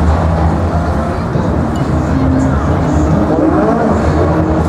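An Electro hot rod race car drives at a race event, giving off a loud, continuous roar of motor and road noise close by, with no break.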